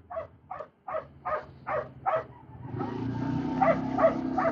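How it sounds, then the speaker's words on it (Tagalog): A Belgian Malinois puppy barks in a quick series of short, close yaps, then a denser, rougher stretch of yelping and whining rises over background noise. "Makikita niya pala yung isa naming tuta, the Belgian Malinois."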